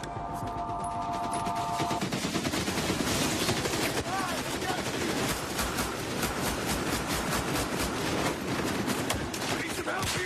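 Rapid automatic gunfire and sustained fusillade from an EA video game trailer shown at E3 2014, dense and continuous throughout with a brief tonal beep at the start and shouted voices mixed in.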